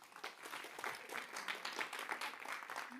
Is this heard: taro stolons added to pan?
no